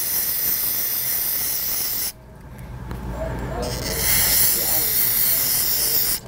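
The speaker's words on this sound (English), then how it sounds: "Just take it, spray it out." Hissing bursts of aerosol cleaner sprayed at close range onto a STIHL spark arrestor screen, broken by a brief pause before a longer, louder spray.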